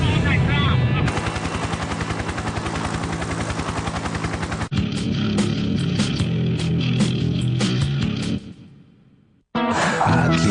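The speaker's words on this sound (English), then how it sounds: "Wait, are we going in this helicopter?" A helicopter's heavy, steady rotor chop and engine roar fill the air, loud and close, with a brief dip near the end before the noise returns.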